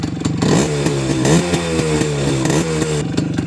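Motorcycle pulling away on a test ride after an accelerator adjustment, its engine rising in pitch through a few quick surges, close and loud with some road clatter.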